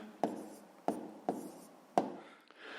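A pen writes math figures on paper in four or five sharp, close taps and short scratching strokes, spaced unevenly in a quiet room.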